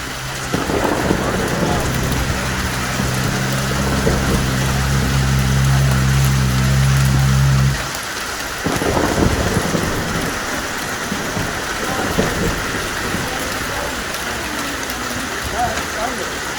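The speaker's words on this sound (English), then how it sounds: "We've had the mother of all hailstorms here at Snetterton." Heavy hailstorm with thunder at the Snetterton race circuit: dense, loud rattling of hail and rain throughout, with a deep rumble of thunder in the first half that fades out.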